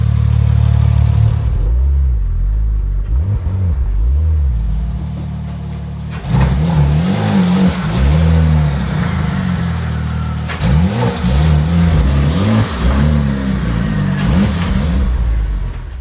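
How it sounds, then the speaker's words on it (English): A Porsche 997 911 Turbo engine revs up and down repeatedly in rising and falling sweeps while accelerating, with a couple of sharp shifts, loud and close, without speech; the exhaust is fairly quiet. "After watching this clip, this exhaust definitely has to go. It's way, way, way too quiet."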